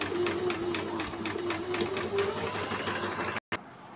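An Usha Dream Stitch sewing machine that is producing faulty, bunched or oversized stitches runs close by with a steady, rapid mechanical whirr and rhythmic needle ticking, then briefly cuts out near the end.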